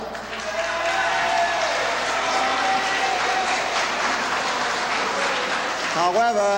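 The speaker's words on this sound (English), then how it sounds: "you can cheer to the rafters, and you can make all the noise you want, people" A crowd of union workers cheers and applauds in a packed hall, a steady loud roar of clapping and shouting with voices mixed in throughout.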